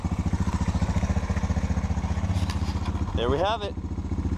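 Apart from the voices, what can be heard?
Honda TRX 250 Sportrax ATV engine started and running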